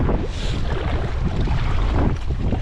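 A strong headwind roars across the microphone while out sea kayaking, with waves washing in a dense, continuous rush that is loud and close.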